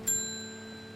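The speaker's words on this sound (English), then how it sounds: "let's ring the bell" A single bright shop bell ding from the video game Strange Horticulture, a clean struck chime with a long, slowly fading ring, heard alone and fairly quiet.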